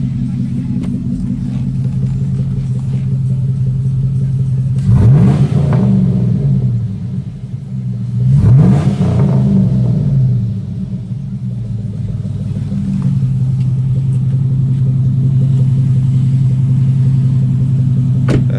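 A 2004 Chevrolet Suburban engine with a Dynamax bullet muffler idles with a deep, loud rumble, then revs twice in quick succession, each rise and fall clearly audible, before settling back to a steady idle.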